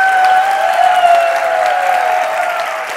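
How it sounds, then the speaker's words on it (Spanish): Loud, sustained applause from an audience at a public event in Valladolid, clapped hard to test a noise-level traffic-light meter, a dense continuous roar of hands with a steady tone ringing through it. "os pido que por favor deis un muy fuerte aplauso"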